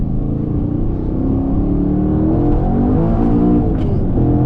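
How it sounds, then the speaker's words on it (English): Supercharged Camaro Z/28 on E85 pulling hard in first gear, its engine note climbing steadily in pitch with a dense, loud roar and supercharger whine heard close up throughout. "We're gonna do another first gear pull before we get this thing."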